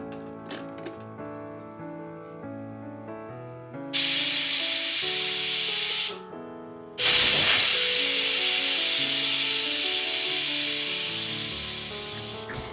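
Pressure cooker whistling as it cooks carrots for halwa, a loud, sustained steam hiss that cuts off briefly and then returns in a second long burst, with background music playing throughout.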